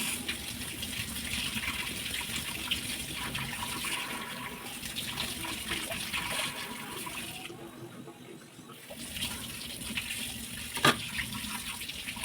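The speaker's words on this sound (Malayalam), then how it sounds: "വഴുതനങ്ങ നന്നായിട്ട് കഴുകി കേട്ടോ." Brinjal is rinsed under a running kitchen tap, a steady close gush of water splashing over the vegetable, with a brief knock near the end.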